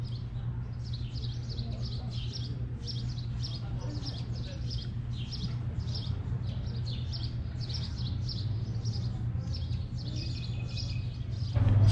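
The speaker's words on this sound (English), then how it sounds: "You can hear so many birds when you're here." Many birds chirp and trill continuously outdoors in Malibu, a busy steady chorus over low background noise and a faint hum.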